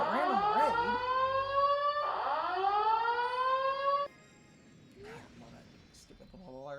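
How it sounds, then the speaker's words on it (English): A raid alert in a live game stream blares a loud rising-and-falling wail like an air raid siren for about four seconds, then cuts out, leaving faint background sounds and a brief rising tone. "Stupid little alert. That sounds way too close to the actual air sirens in this town."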